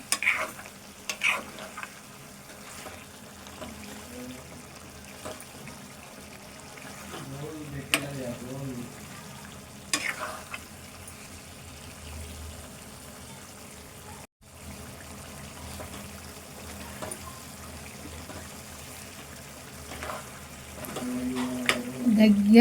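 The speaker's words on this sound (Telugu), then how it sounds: "ఇది మంచిగా ఫ్రై కావాలి" Chicken curry with ulava kayalu fried in a pan, with a steady sizzle and the scrape of a spoon stirring through it, close up while a voice speaks briefly over the cooking.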